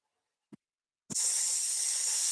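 A hissing, sizzling exhale during a qigong breathing exercise, a short intake sound followed by a steady, sustained breathy hiss pushed out through the teeth, close and alone.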